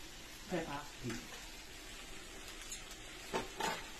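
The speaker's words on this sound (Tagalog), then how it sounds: "Yan, natin siyang halu-haluin sa ating sisig." Seasoning is stirred into pork sisig frying in a pan, giving a faint, steady sizzle. A few short utensil scrapes and clinks rise above it now and then, close by.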